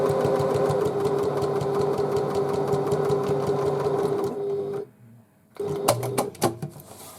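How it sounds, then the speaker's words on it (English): A sewing machine runs steadily with a normal straight stitch foot through the vinyl bottom of a tote bag, a continuous close mechanical whir for several seconds, then a brief pause and a few short bursts of stitching. "I'm finding it fine to stitch with a normal straight stitch foot."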